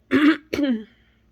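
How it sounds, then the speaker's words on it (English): Someone close by clears their throat twice in quick succession, the second sounding like a small cough, with silence afterward. "clearing of my throat and little slight cough that I have"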